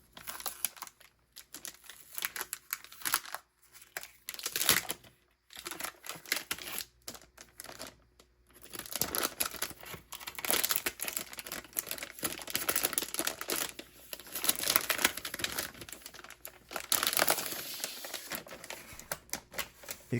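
Plastic shrink wrap being peeled and crinkled off a boxed KJV Bible in brown leather-look cover, close irregular bursts of crackling and tearing with brief pauses between handfuls, no talk.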